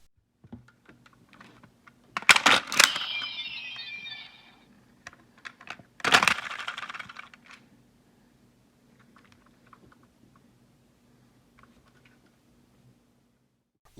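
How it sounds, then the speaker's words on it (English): Houou Blade toy sword being drawn, setting its Kyutama spinning: two sharp bursts of plastic clicking and a whirring electronic effect, each trailing off, followed by faint scattered ticks over a low hum. "The Kyutama spins when you draw the Houou Blade."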